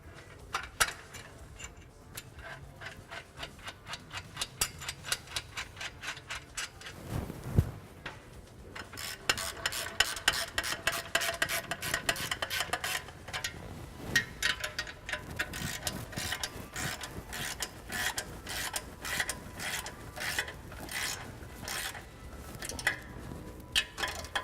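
Header bolts being run in by hand with a ratchet on a garage engine build, rapid clicking pawl ticks in long bursts, close and steady, with no talking.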